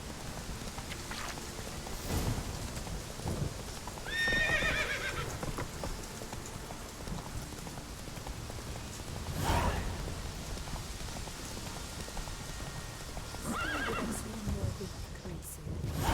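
A horse named Roach whinnies in the Witcher 3 video game, with two distinct neighs and soft hoof clops over faint ambient rain and a low murmur of background voices.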